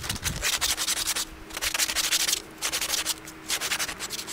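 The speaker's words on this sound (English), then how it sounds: "I'm rotating this as I am running it across the sandpaper." A metal part rotated while rubbed back and forth across sandpaper, making steady rhythmic rasping strokes with short pauses between passes, close and fairly loud.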